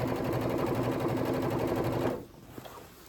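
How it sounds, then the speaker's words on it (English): A sewing machine stitching a dress band to its facing about a quarter inch from the edge runs with a fast, steady mechanical whir, then stops abruptly and leaves a few faint clicks. "about 1/4 of an inch away, you're just going to go ahead and sew"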